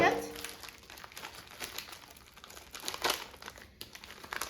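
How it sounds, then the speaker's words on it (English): Crinkling plastic wrapper being pulled open from a frozen Jimmy Dean Delights Eggwich breakfast sandwich, with several bursts of rustling and crackling close by, faint talk in the background. "So I'm going to remove it from its packaging."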